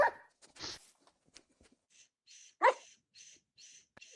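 Dogs in Minecraft giving a few short yips and barks with soft whimpers between, sparse and fairly close, alone without speech.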